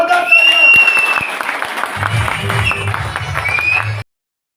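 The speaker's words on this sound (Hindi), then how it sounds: "जोरदार तालियां" Loud, dense clapping from an audience at a talk, sustained for about four seconds before cutting off abruptly, with some cheering mixed in.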